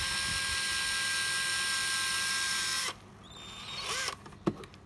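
An old, cheap cordless battery drill runs with a steady high whine for about three seconds, then stops, followed by faint handling clicks and a short knock.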